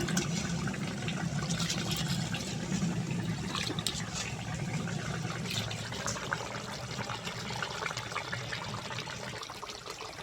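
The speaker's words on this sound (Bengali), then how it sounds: "এবার আমি চালটা ধুয়ে নেব। চালটা হালকা হাতে ধুয়ে নেব।" Rice is washed gently by hand in water while making chicken pulao, a steady watery swishing and trickling that runs close and continuous throughout with no talking.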